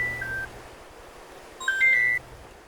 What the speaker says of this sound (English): Nice phone call. It's not mine.